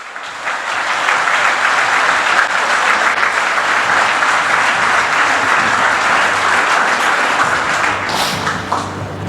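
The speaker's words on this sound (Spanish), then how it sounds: "¿Cuántos aplauden a Cristo?" Congregation in a church breaks into loud, sustained applause, a thick, even roar of clapping hands that fades slightly at the end.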